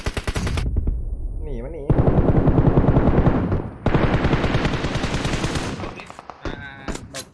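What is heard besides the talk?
gunfire in PUBG Mobile video game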